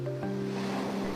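Ocean surf washes continuously along a shoreline where seawater is gathered in baskets for natural salt making, a soft, steady rushing wash with a faint low tonal hum over the short span.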